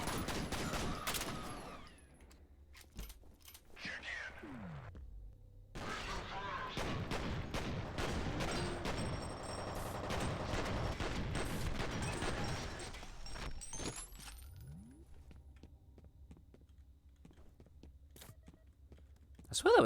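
Assault rifle fire in the shooter F.E.A.R., with several rapid bursts of gunshots separated by quiet gaps, fairly faint overall and sharp cracks at the start and end.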